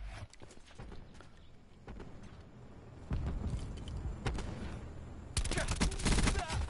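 Gunfire from a multiplayer shooter video game: dense bursts of shots and crackling fusillade that grow louder partway through, with a heavy volley near the end.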